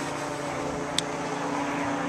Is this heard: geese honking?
no